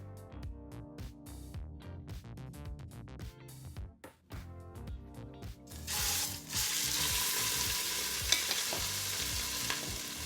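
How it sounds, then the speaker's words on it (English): A seasoned beef roast starts sautéing in grapeseed oil inside a hot Instant Pot, a steady close sizzle taking over after several seconds of rhythmic clicking and clattering at the start. "Now let's season our roast and get it sauteing."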